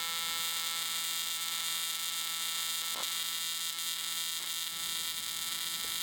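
Arc welding with a changing arc gap gives a steady buzzing crackle, its low hum cutting in and out as the gap shifts, with a few sharp pops along the way and no voices.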